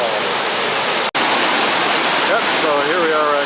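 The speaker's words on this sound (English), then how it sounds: "so here we are at Kakabaka Falls" Kakabaka Falls near Thunder Bay, Ontario roars as a steady, loud, full wash of falling water that fills the whole stretch, with one brief cut-out early on and a faint voice rising over it near the end.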